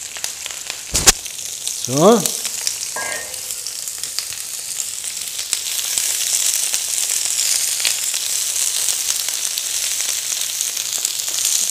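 Bell peppers fry in a pan with a steady, close sizzle that swells after a few seconds, broken early by a sharp clink and a short utensil scrape; a voice speaks briefly.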